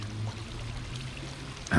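Water pouring into garden grow beds as they fill and drain, a steady trickling stream with a low hum behind it and a brief louder splash near the end.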